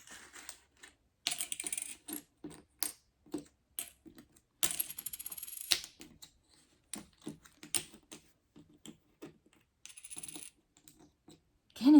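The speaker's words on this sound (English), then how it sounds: "Ooh, having trouble picking up coins," Coins being picked up and dropped onto a hard surface make scattered clinks and small metallic jingles over about twelve seconds, irregular and close, some brief rattling clusters, no talking.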